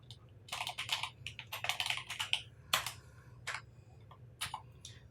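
Keys tapped on a computer keyboard while entering text into an Excel spreadsheet cell, quick bursts of close, crisp clicks with short pauses between words, quiet overall and no voices.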